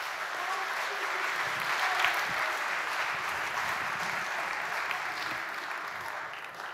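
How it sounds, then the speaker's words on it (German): Warm, steady audience applause at a city district forum event honoring the neighborhood representatives, a dense, continuous wash of many hands clapping at an even level for several seconds, with no voices. "Bitte einen warmen Applaus für die Stadtteile."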